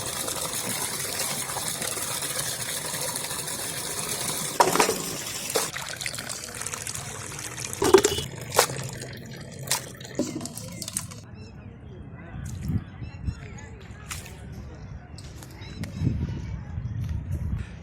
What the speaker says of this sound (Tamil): குறும்பாட்டு கறி மஞ்சத்தூள் போட்டு நல்லா கழுவி எடுத்துக்கலாம்.